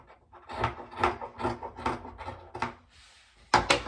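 Fabric being cut for a cape dress or long tunic, a series of about eight short, fairly loud rasping strokes in a steady rhythm with brief pauses, and no voice.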